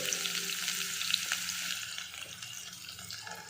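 Sliced onion sautéing in a pan after a tempering of cinnamon and cloves, a dense continuous sizzle heard close and moderately quiet, with no one talking.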